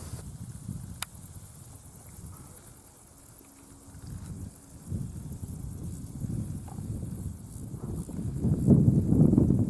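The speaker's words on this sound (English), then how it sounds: "with the wind, a bit of wind here, getting funneled up this beast" Wind blowing on a mountain, a low rumbling buffet against the microphone that swells and eases in gusts, growing louder toward the end, with no talk.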